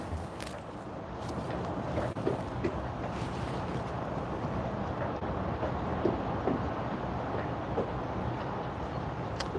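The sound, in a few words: boat canvas flapping in the wind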